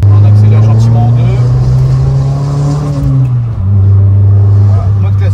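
An Abarth fitted with a stage 4 race engine accelerates gently in second gear: a loud, close, throaty engine drone climbs steadily, drops briefly at a shift or lift, then settles back into a strong, even hum.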